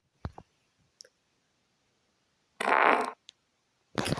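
Cartoonish synthetic farts from a fart-sound video game: a few short pops, then a longer blaring fart and a final burst, separated by silence, with faint clicks.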